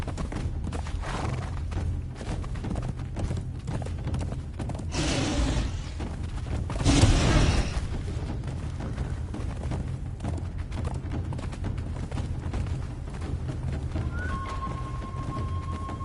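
A horse's hooves clop steadily through a long stretch in the video game Conan Exiles, a continuous rhythmic gallop with a brief louder swell midway and no talking.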